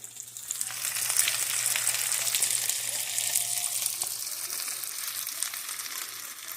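Homemade McRib-style patties fry in a pan with a steady, close sizzle and crackle that holds at an even level throughout, with no talking.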